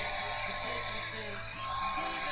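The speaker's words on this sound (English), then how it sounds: "let's get the blow dryer going" A blow dryer runs steadily at close range, a loud constant high-pitched whir with a motor hum beneath it, holding an even level for the whole stretch.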